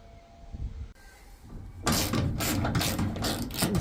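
A ratchet wrench clicks rapidly and loudly while backing off 10mm nuts on a Nissan e-NV200 van, following a couple of seconds of quieter handling and metal contact.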